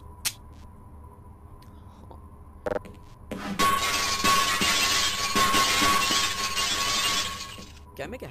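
Glass shatters in the VR game Half-Life, a loud sustained crash and tinkling spray of shards lasting several seconds after a few quiet knocks, with faint low background hum.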